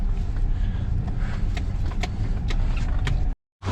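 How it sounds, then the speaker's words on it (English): A vehicle on a Wisconsin dairy farm backs a trailer in, heard as a steady low engine rumble close by with a few light knocks and clicks, cutting off abruptly near the end. "Getting the trailer backed in."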